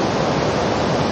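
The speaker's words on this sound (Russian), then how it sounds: "водохранилище переполнилось, и водохранилище пошел слив воды" An overflowing reservoir in Singapore discharging water into the Kallang River after heavy rain makes a loud, steady, broadband roar of rushing water with no pauses.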